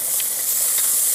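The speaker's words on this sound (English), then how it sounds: "Let that fire go a little bit so I can give it a good sear" A ribeye steak searing on a hot grill, giving a loud, steady hissing sizzle with a couple of brief flare-ups, close and uninterrupted, with no talking.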